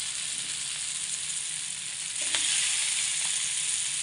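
Masala-marinated fish fries in a pan with a continuous hissing sizzle that swells a little louder partway through, with a faint knock or two of handling.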